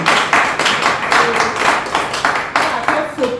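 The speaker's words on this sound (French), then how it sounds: "On applaudit." Bursts of hand clapping from a group gathered for a talk, several rounds of fairly loud applause, close by, rising and falling over a few seconds.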